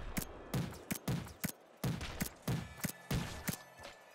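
Pop rifle fire in the game Nuclear Throne, sharp bursts of loud, close digital gunshots in quick clusters with brief pauses between them, heard alone without talk.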